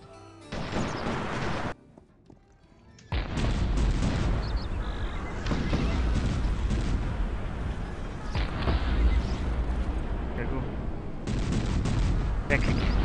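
Cannon blasts and massed musket fire from a Cossacks 3 real-time strategy battle, a dense, continuous clatter of shots and booms after a brief lull, loud throughout.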